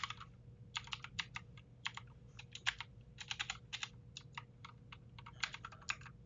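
A username being typed on a computer keyboard: quick, uneven bursts of light key clicks with brief pauses between words, close and fairly quiet.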